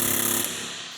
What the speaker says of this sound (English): we gotta get the air hammer involved